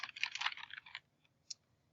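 Typing on a computer keyboard while entering a college name into an online application form: a quick burst of close, dense key clicks for about a second, then a couple of isolated taps with quiet gaps between them.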